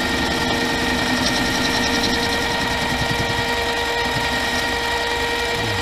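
A repaired, loosely fitted Pratt & Whitney machine runs with a steady, close mechanical whir and a constant hum, holding an even level throughout with no talk.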